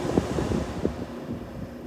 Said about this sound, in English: Let's hear the compressor quick.